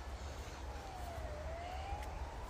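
A police siren wails faintly in the distance in Lower Hutt, New Zealand, its pitch sliding slowly down and up over a steady rumble of traffic.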